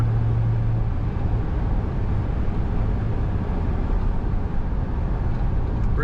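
A 2005 Chevrolet SSR drives down a road, giving a steady, loud rumble of engine and road noise with a low drone near the start and no pause throughout.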